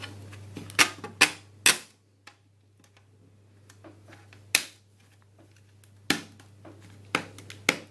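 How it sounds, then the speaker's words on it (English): Plastic part of a Scorpion light gun for a game console being snapped back into place, heard as a series of sharp, close clicks and taps spread unevenly across the clip against a low steady hum. "I'm guessing it should just click into place."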